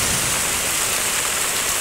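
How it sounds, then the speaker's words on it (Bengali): Heavy rain drums steadily on a tin roof, a dense, loud and continuous hiss with no talk. "নিশ্চয়ই আপনারা শব্দ পাচ্ছেন বৃষ্টি"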